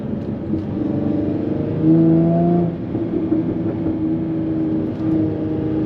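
A Jaguar F-Type S with a 380 hp engine in sport mode hums steadily from inside the cabin, its tone swelling briefly as the revs rise before settling back to a moderate drone.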